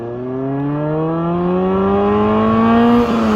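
A Ford Fiesta Mk5 with the 1.7L Puma engine revs steadily upward, its rising harmonic engine note climbing over about three seconds and briefly dipping at the end, loud and close with no talk.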